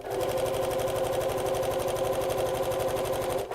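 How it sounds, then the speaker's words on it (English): Sewing machine stitching fabric on the wrong side to gather it, a fast, even mechanical rattle of rapid needle strokes running steadily and close throughout. "I am sewing on the wrong side of the fabric"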